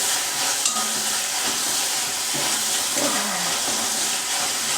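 Crushed garlic sizzles and spits steadily in hot oil in a pan for methi bhaji, with a dense continuous frying hiss and occasional stirring scrapes, close up and alone.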